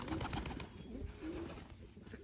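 Pigeons in a loft box give soft, low cooing calls, faint and slightly distant, repeating in brief murmurs over a quiet background.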